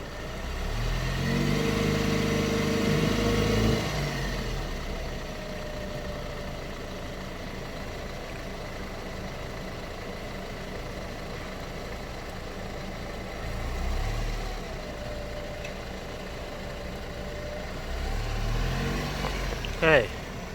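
A car engine starts and idles at low, steady volume, then revs and pulls away near the end; a voice talks briefly at the start and again toward the close.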